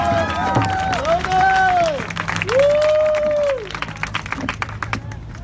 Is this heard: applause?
yes